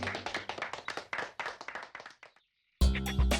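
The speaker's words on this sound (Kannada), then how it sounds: "ಈಗ ಹೊಡಿರಿ ಚಪ್ಪಾಳೆ." Handclaps from people cheering when a kabaddi player is out, a run of quick, fairly close claps that breaks off into a brief silence before a burst of louder sound.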